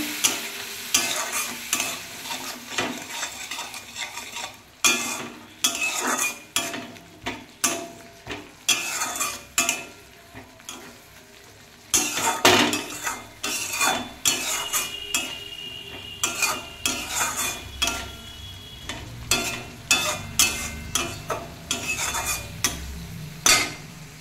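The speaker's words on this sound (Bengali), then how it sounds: "এবার মশলাটা আমি কষিয়ে নেব।" Spice paste sautéed in a pan with added pepper powder and a little water, repeated rhythmic scraping and stirring strokes of a spoon over a soft sizzle, close and alone.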